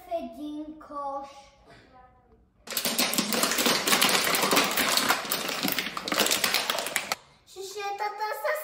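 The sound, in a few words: plastic bottles being crushed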